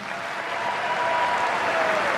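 Steady applause from an audience at a sports team gathering, moderately loud and even throughout with no talking over it.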